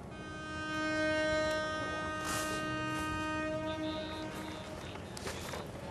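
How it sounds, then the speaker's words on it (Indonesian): An airport rail link train at Manggarai station in Jakarta sounds a sustained, fairly loud multi-tone horn that holds for several seconds over low station rumble, with brief hiss bursts from the train. "Kereta api yang menghubungkan Jakarta dengan Bandara Internasional Soekarno-Hatta"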